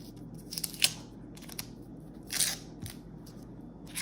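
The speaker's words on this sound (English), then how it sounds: "So I'm gonna take the tape off the corners for a minute." Tape peeled off the corners of a sheet of paper laid on a dry-erase surface for a wire sculpture project, giving a few short, crisp ripping bursts spaced apart against a quiet background.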